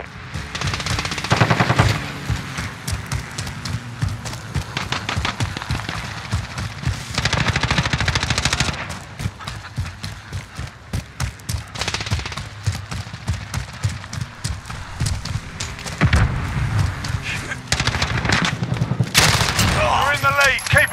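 Dense automatic gunfire in a Call of Duty multiplayer match, rapid bursts and repeated shots sustained throughout, loud and close, with occasional game voice lines mixed in.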